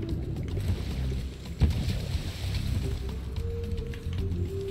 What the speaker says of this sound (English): Now let's do the submarine.